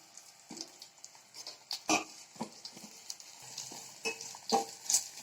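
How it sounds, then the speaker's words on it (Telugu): Onions and fenugreek seeds sizzle gently in a pan while making buttermilk curry, with soft crackles and occasional stirring clinks and scrapes, fairly quiet and close, no talking. "ఉల్లిపాయలు వేస్తున్నాను. ఇవి ఎక్కువ ఏగని అవసరం లేదు, కొంచెం సేపు వేయించుకుంటే చాలు."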